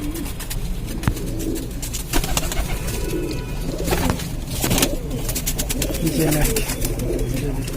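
Pigeons cooing in a home loft with repeated soft throaty calls close by. Wings flutter and people talk over the birds.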